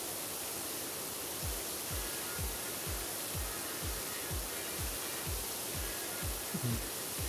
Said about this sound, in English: Some people are into listening to pressure washers because they think it's like really good white noise.